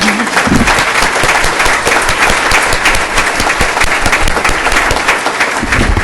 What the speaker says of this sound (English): So I'm just going to give them a round of applause for that.